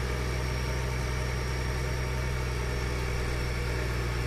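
A tractor engine in the video game Farming Simulator 2013 drones steadily with a low, even rumble and constant hum, loud and unbroken with no talk.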